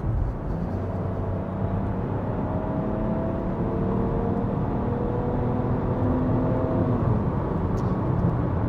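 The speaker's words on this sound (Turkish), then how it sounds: "böyle bir şanzıman sanki CVT değil de konvansiyonel bir otomatikmiş gibi böyle atıyor, vites atıyor" Nissan X-Trail 1.5 DIG-T with a CVT accelerating in standard mode, a steady cabin engine drone under road noise whose pitch climbs and drops in steps like simulated gear shifts, with no talk.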